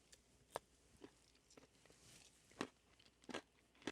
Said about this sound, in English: This is a really soft snack stick, so you get the soft and the crunch, and it just all mixes well.